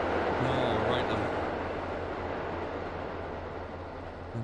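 A train rolls by in Farming Simulator 19 with a continuous heavy rumble and rhythmic clatter, loud and close, under a brief low horn-like tone early on.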